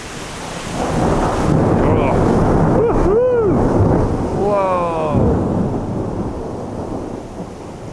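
Deep rolling thunder from an electric storm rumbles close and loud for several seconds, with a sharp crack in the middle, over a steady wash of heavy rain.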